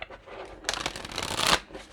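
Oracle spell cards are shuffled close up in a short, dense burst of riffling that swells and then stops, with faint handling noise before it.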